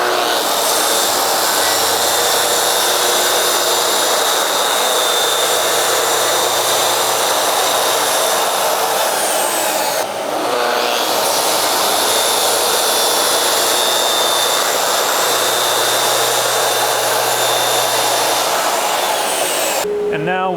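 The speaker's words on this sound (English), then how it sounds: "And now I'm going to cross cut the bottom shelf panels, the three panels that sit at the bottom closest to the floor." A power saw cross cuts three bottom shelf panels for a bedroom storage bench, a loud steady whine running almost continuously for twenty seconds with a brief dip near the middle and a cut-off at the end.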